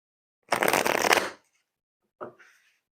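A quick riffle of tarot cards being shuffled, crisp and close, followed by a softer brief shuffle and tap a moment later.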